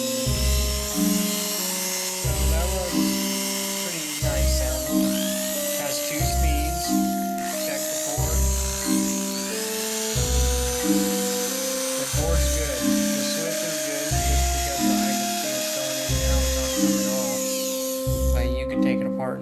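An Oster Golden A5 two-speed hair clipper runs close up on a repair bench, giving a steady electric motor hum with strong harmonic whine and rhythmic pulsing fluctuations throughout.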